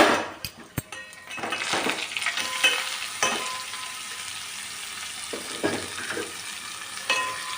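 Ponnaganti greens hiss and sizzle steadily in hot tempering oil, with a few sharp clicks and scrapes of a spoon stirring the pan.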